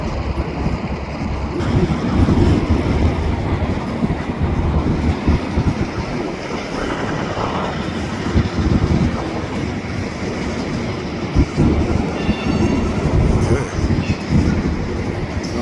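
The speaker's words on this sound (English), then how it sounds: "First they brought the whole train in, and now they're pulling it all back." A long freight train with hoppers and tank cars being pulled back at a rail station, a steady rumbling roll with faint clatter running throughout, close by and continuous.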